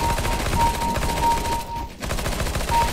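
P90 submachine gun fired in rapid bursts in Counter-Strike: Global Offensive, loud continuous automatic fire with a short pause near the middle before the rattling resumes.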